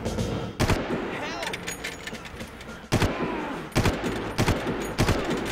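Gunfire in the video game Far Cry: loud, close shots and short bursts fired at irregular intervals over continuous game background noise.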